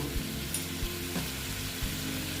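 Tilapia jhal curry broth with mustard paste simmering and sizzling in a pan, a steady close bubbling hiss with low thumps from stirring, no voices.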